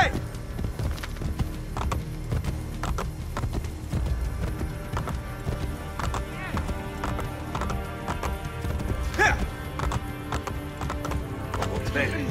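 Steady clip-clop of a horse's hooves at a quick pace in Assassin's Creed Brotherhood, with an occasional whinny, under game music and some background chatter.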